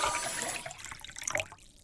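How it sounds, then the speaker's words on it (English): Water poured out of glasses splashes and gurgles briefly, fading off within a couple of seconds. "Now we pour it out and take a look at your results."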